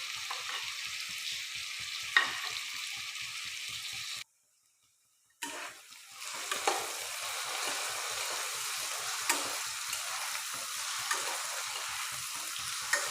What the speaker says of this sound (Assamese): তিনি 4 মিনিটমান ভালদৰে ভাজি ল'ম